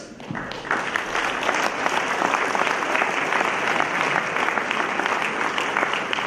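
A large audience at a wildlife awards ceremony applauds steadily and densely for about six seconds, many hands clapping together at an even, sustained level with no one talking over it.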